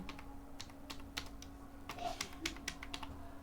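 Quick, light taps on a computer keyboard as a name is typed, an irregular run of soft clicks heard close up over a quiet room hum with no talking.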